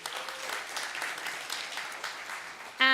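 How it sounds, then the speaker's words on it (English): A steady round of applause from a conference crowd at Nudgestock, voting for daily wipes, with dense even clapping throughout and a brief tonal sound cutting in at the very end. "Round of applause for daily wipes."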